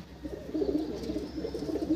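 Andhra pigeons in a loft give soft, low, throaty coos that repeat close by in a steady rolling murmur, with no voices over them.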